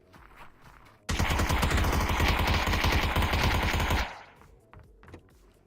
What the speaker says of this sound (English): Slightly buggy gunfire there.